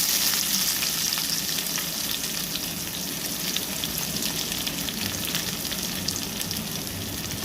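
Onions, chillies and carrot hit hot oil with tempering spices in a pan for a gram-flour breakfast curry, giving a steady, loud, close sizzle and crackle with occasional stirring, no voices.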